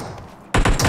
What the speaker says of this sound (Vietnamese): Trên tay em đang là khẩu M416